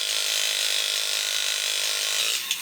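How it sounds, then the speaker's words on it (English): A battery-motor mechanism inside a vintage Space Robot X-70 tulip-head toy ratchets with a steady, close, buzzing whir of rapid clicks, running continuously and ending in a small knock. "That ratcheting sound is normal."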